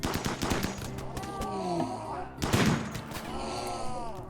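Gunfire during a predator hunt in the video game RimWorld, rapid bursts of shots layered with wails and groans over a continuous game soundscape.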